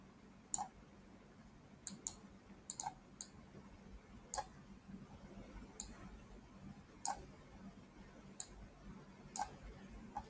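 Computer mouse clicking while working in Canva, a dozen or so sharp, quiet clicks spaced irregularly, some in quick pairs, over faint background hiss with no talking.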